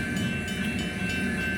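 Union Pacific locomotive 8860 slowly leading an outbound manifest freight train, a steady low rumble of diesel engines and rolling cars with a faint high tone running throughout, continuous and moderately close.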